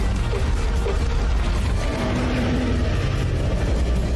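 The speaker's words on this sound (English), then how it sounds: "That's the sound of Zilla walking from the Ark mod." Heavy footsteps of Zilla, a giant reptilian monster from an Ark mod video game, rumble continuously in a loud, dense low-end texture with no talk.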